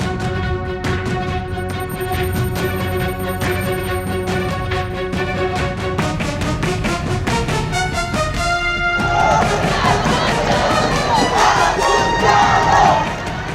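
A large crowd of protesters chants slogans at a street demonstration in Bangladesh's capital during the July mass uprising, demanding the government's fall. The roar is loud and continuous, swelling and growing rougher toward the end.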